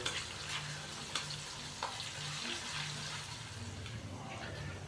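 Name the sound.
frying ginger and garlic paste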